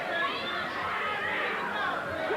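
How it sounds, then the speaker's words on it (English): A boxing crowd at Madison Square Garden's Felt Forum fills the arena with dense, continuous chatter and murmuring, a steady roar of many voices with no single call standing out. "You can hear the crowd into it right away."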